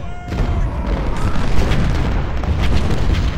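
Cannon fire from a Civil War battle in the Ultimate General: Civil War strategy game: a loud booming blast opens the clip, then a continuous rumble of distant explosions and gunfire.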